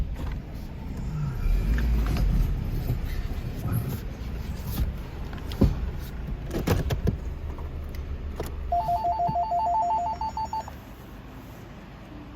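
A telephone in an auto repair shop rings in a short electronic burst near the end, following scattered clanks and knocks of shop work and low background noise.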